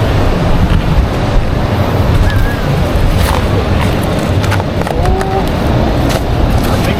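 Big waves break on a rocky shore near a tidal pool in Casiguran, Aurora, a loud continuous roar of surf mixed with wind buffeting on the microphone.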